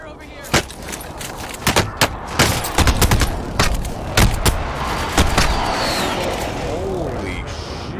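Gunfire in Call of Duty Warzone, with sharp shots and short bursts cracking at irregular intervals, some loud and near, others further off, while a voice talks over part of it.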